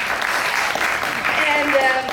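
Audience clapping at a film premiere event, a steady broadband wash of many hands lasting throughout, fairly loud and close, with a faint tonal voice or whistle rising near the end.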